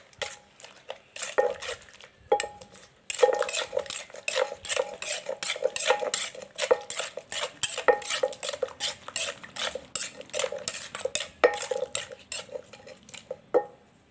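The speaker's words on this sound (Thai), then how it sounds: "ตำกันหอมเลย" Papaya salad with fermented fish sauce being pounded with a pestle in a mortar: a long, steady run of close, rhythmic knocking thuds with occasional brief pauses.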